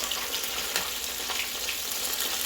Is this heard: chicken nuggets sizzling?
yes